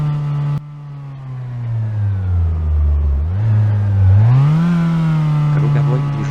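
A car engine in a driving game set on Italian roads drops in pitch, then climbs steadily as it accelerates hard, a loud continuous whine rising over about six seconds.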